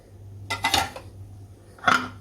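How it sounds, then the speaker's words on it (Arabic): Eel pieces tossed with marinade in a bowl produce two short bursts of clinking and scraping from a utensil against the dish, separated by a quiet pause. "هنخلط كل ده على بعضه"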